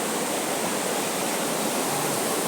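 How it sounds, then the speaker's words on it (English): Rushing floodwater in Golden Grove, a steady broadband roar of fast-moving water that holds even and loud throughout with no voices over it. "Hear water."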